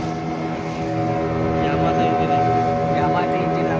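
A motorboat runs on a Yamaha 150 two-stroke outboard engine, giving a steady, loud, buzzing drone that builds slightly, mixed with wind and water noise; voices are faintly present.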